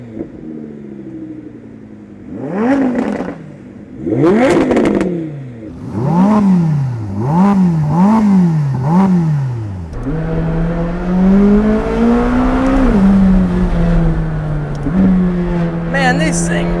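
A 2023 Corvette C8 Z06 repeatedly revs and accelerates on the road, its engine pitch climbing and dropping through several loud bursts before settling into a sustained strong roar up close.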